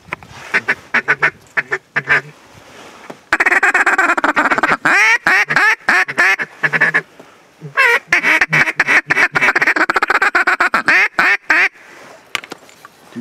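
Many white-bellied ducks quacking in dense, overlapping bursts during a waterfowl hunt, a noisy flock calling close by with short pauses between rounds of chatter.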